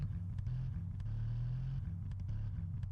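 A video game car engine in GTA drones and revs at a steady low pitch, rising briefly then settling, with a few faint clicks over the continuous hum.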